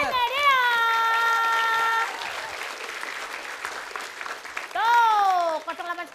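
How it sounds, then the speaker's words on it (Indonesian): Studio audience applause for SMS quiz winners on an Indonesian TV comedy show, steady clapping mixed with crowd noise, with musical stings or sound effects at the start and again near the end. "Tepuk tangan sekali lagi untuk para pemenang."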